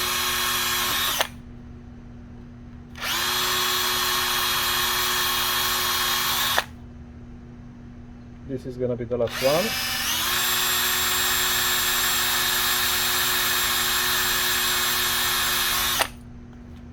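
Power drill boring holes into a switch bracket for a DIY low-budget PLC trainer, two long loud whirring bursts separated by brief pauses and a short revving start, with a brief spoken line between them.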